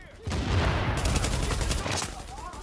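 Rapid automatic gunfire from a gun in The Division, a dense burst of shots running continuously for about two seconds, loud and close, with a brief voice near the start.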